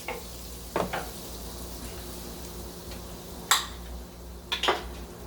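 Chopped ingredients such as green onions sizzle steadily in butter in a pan, with a few sharp scraping and clinking stirs standing out over the constant frying hiss.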